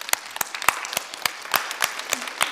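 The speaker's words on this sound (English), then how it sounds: "let's everybody clap your hands" A church congregation at an Easter worship service claps along in spaced, sharp bursts, each clap standing out clearly in a steady, rhythmic pattern with brief gaps between them.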